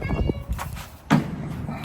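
A cat meows inside an outdoor cat litter box enclosure, two or three short, close meows with clear tonal cries, the last one loudest, alongside some faint handling thumps.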